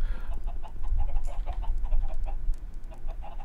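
Minecraft chickens cluck in short, repeated bursts over a steady low rumble, with the pecking calls scattered at an uneven rhythm throughout.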